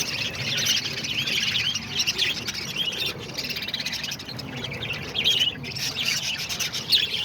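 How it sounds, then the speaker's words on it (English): Pet parakeets in an aviary kept with diamond doves, lovebirds and cockatiels, chirping and squawking steadily in a busy overlapping chatter, close and fairly loud with no talk. "there they are, all the parakeets"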